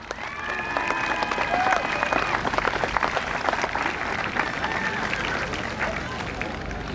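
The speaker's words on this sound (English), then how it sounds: "let's give Marshall a cheer for being such a superstar" At a Welsh pony and cob festival, a crowd claps and cheers for a young police horse named Marshall. The dense, sustained applause is mixed with shouts and crowd babble, and a few whistle-like calls ring out early on.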